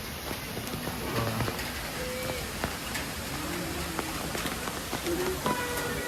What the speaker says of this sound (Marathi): चला मित्रांनो हे बघा मस्त इथे वॉटरफॉल पडतोय.